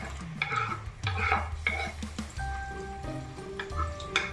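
Chopped onion and ginger are stirred in oil in a wok, with repeated scraping strokes and metallic clinks of the spatula over a faint sizzle, and some tonal music in the background.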